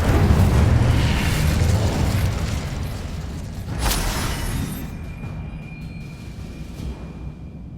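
Incendio fire spell cast in the Hogwarts Legacy video game, a loud rushing burst of flame with a sharp crack near the middle, then a fading roar and lingering magical hum.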